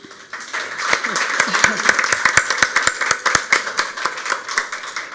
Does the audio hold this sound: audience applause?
yes